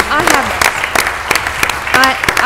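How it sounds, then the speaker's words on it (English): Applause from the audience at a city council meeting in Mobile, Alabama, scattered claps and a short burst of clapping, with voices speaking and calling out over it. "Let's give him a big round of applause."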